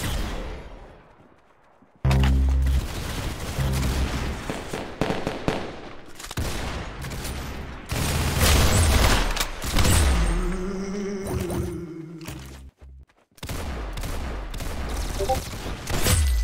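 Loud bursts of gunfire in Roblox Arsenal land a headshot, with rapid shots and crashing impacts in clusters and brief silent gaps between volleys.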